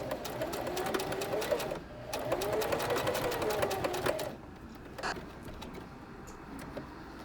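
A sewing machine stitches ribbon onto fabric, whirring steadily in two long runs with a brief pause between, then stopping, followed by a quieter click.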